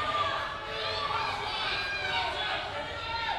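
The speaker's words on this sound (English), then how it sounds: "Crowd, they are upset." A crowd shouting and chattering in an agitated, upset way, a steady dense roar of many voices throughout with scattered higher cries.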